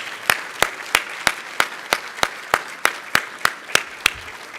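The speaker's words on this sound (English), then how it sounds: "So let's give Rick a big round of applause." Banquet applause at a sports hall of fame induction, heard as evenly spaced, crisp, steady claps, about three per second, clear and fairly close with no talking.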